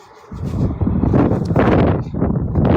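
Strong, gusty wind buffets the microphone with a low, rumbling roar that swells after a brief quieter start and stays loud.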